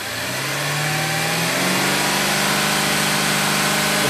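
A car engine with a newly installed MAF sensor revs hard and climbs steadily in pitch, loud and close, holding a strained high-rpm roar with no talk.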